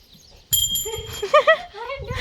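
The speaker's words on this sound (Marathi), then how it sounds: "एकदा वाजव वरती घंटी" A single strike of a hanging temple bell gives a bright metallic ring that fades slowly, while nearby voices talk over the lingering tone.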